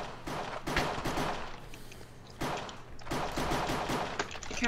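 Rapid bursts of gunfire from a Minecraft Counter-Strike style cops-and-crims game, dense volleys in two clusters with a short lull between, loud and close over a low steady hum.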